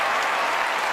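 Dense, steady applause from a large award-show audience fills the whole second, loud and close with no gaps or voices rising above it.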